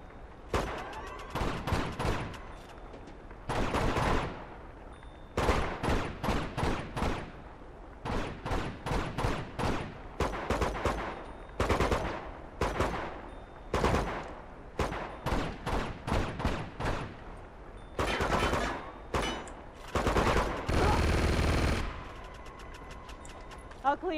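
Bursts of mounted turret gunfire in Uncharted 2: Among Thieves, loud and close, coming in repeated volleys of rapid shots separated by short pauses, with a long sustained burst near the end.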